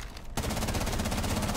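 In Rainbow Six Siege, a rapid, dense burst of automatic gunfire rips through a wall, loud and close, with the shots coming in a fast, even rhythm after a brief quieter lead-in.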